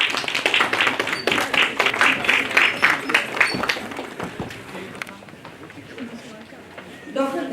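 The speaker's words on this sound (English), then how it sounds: "A big round of applause." An audience applauding at a national conference, a steady dense clapping that runs loud for several seconds, thins out and fades, with a voice starting up at the end.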